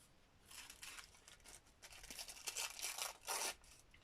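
Paper being torn off a gel print in several rough, tearing bursts, close and fairly quiet, with no voices.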